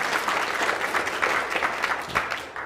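A conference audience claps for a talk on cyber attack response, a lively, fairly loud burst of many hands with uneven peaks that carries on without any talking over it.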